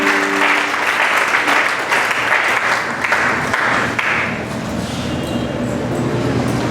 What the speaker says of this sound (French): On applaudit encore très fort pour le frère.